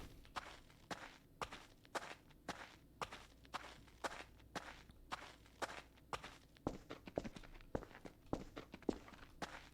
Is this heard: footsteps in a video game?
yes